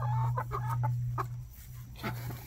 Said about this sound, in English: Crazy chickens.